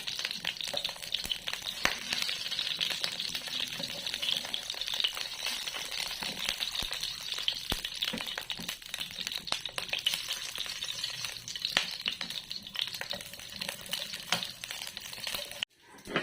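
Eggplant pieces frying in a pan of hot oil, a steady broadband sizzle holding at an even level throughout, with faint clinks and stirring scrapes scattered in, then a sudden stop just before the end.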